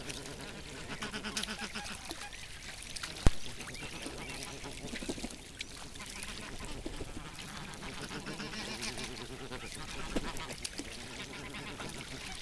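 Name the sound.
geese and swans calling on a pond during spring migration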